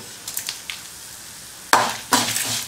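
Curry leaves, coriander, dried chillies, fennel, cumin and pepper dry-roast in a pan. Faint scattered crackles are followed by two louder bursts of rustling, scraping stir noise near the end.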